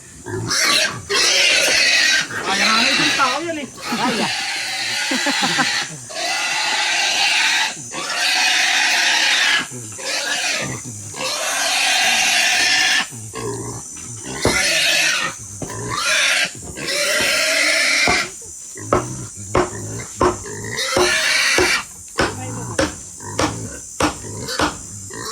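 A pig grunts and squeals repeatedly up close during a family birthday weekend gathering. The loud bursts come in irregular rapid runs, with scuffling, rasping noise and people talking in the background.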